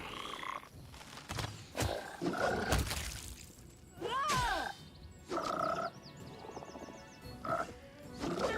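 Frogs croaking in the fantasy role-playing game Pathfinder: Kingmaker, loud throaty croaks and roaring calls in uneven bursts with short gaps between, close and prominent.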